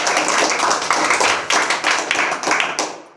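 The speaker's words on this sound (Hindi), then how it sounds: "एक बार जोरदार तालियां हो" A school quiz competition audience bursts into loud clapping for a contestant, dense hand claps filling the room for about three seconds with slight surges and dips.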